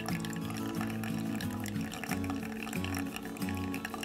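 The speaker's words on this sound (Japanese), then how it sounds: "ハリオと同じようにちょっと続けて注いでみて、もうガンガン広げつつお湯を切らさないようにしていきましょう。" Hot water is poured continuously into an ORIGAMI coffee dripper, a soft, steady trickle with faint bubbling, heard alone and quietly without any voices.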